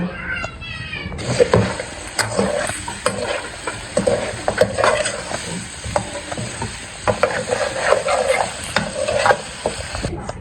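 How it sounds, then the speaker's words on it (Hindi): Korma spices are stirred into chicken in a pot, with loud, close scraping and squelching stirs over a continuous sizzle, in steady repeated strokes, while a voice talks faintly at times. "सबको मैं अब अच्छी तरह चिकन में मिक्स कर लूँगा"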